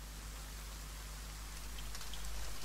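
Steady rain falls in the forest of the survival game The Forest, an even hiss of drops on grass and ground that swells slightly toward the end, with a few faint brighter patters near the close and no voices.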